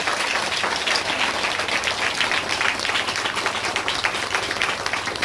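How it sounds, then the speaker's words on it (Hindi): A church congregation applauding together during a Hindi sermon, a dense, steady wash of many hands clapping that holds at an even level throughout with no pauses. "सब ताली बजाए यीशु मसीह के लिए।"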